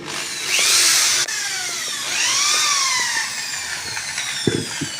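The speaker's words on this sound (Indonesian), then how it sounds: "Di sini kita bor lagi." A power drill bores a hole sized for a 2-inch pipe through the side of a DIY chlorine housing, with two loud whining bursts of high-pitched drilling and scattered clicks and knocks near the end, no talk.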